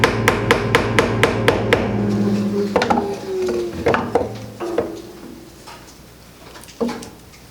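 Hammer taps on a wooden beehive frame being assembled, a quick run of about eight sharp evenly spaced knocks, then scattered louder single knocks and wooden scrapes, close up with no talk.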